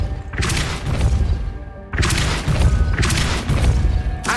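Spell impacts from the Depulso force-push charm in the Hogwarts Legacy video game land as three loud, booming crashes in quick succession, each a heavy thud with a smashing burst, spaced about a second and a half apart.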